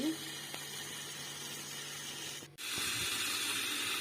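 Water hisses steadily as it is pumped through a venturi fertilizer injector on a watermelon farm, a continuous rushing spray that cuts out briefly midway and then resumes at full strength.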